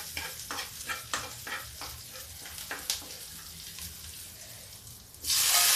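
Tomatoes cooking in a pan for Rajasthani dal, with a steady broadband sizzle and repeated clinks and scrapes of stirring, ending in a sudden louder hiss.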